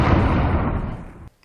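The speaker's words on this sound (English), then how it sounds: "Firing main cannon." A tank's main cannon fires in the Halo game: a loud, dense, broadband blast that rumbles and decays over about a second before cutting off abruptly.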